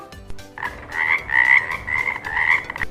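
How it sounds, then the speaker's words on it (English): A single frog croaking close and clear in a long, buzzing, rasping call lasting a couple of seconds, after a few short soft clicks, with no talk over it. "Frog makes croak sound."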